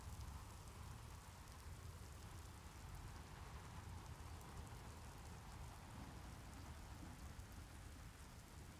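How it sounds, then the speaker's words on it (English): Steady, faint rain falls continuously in the video game Mountain, a soft even hiss with no other sounds. "It's raining at the moment."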